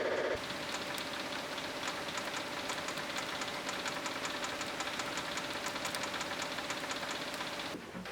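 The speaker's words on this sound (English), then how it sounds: "I can feel the dosing pump working, and indeed we have diesel arriving at the Webasto." A Webasto Thermo Top diesel dosing pump being fitted to a Land Rover Defender runs off a small battery, ticking in a fast, regular rhythm over a constant hum, close and unbroken for several seconds before stopping.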